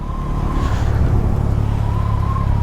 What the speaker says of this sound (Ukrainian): Про мотоцикл Bajaj N250, як він веде себе на трасі.